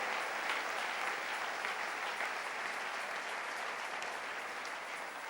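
A church congregation breaks into sustained, dense applause, a steady wash of clapping that carries on evenly through the whole stretch without voices on top.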